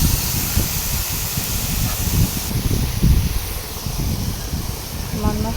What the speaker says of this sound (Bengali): মশলার সাথে আলু বেগুন কষিয়ে নিলাম।